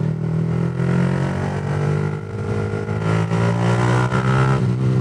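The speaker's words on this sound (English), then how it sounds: "You can rev it or you can just cruise along in third or fourth and it will move." A Yamaha MT15 motorcycle engine accelerates hard to overtake in Bangkok street traffic, its revs climbing and then holding at a loud, steady pitch throughout.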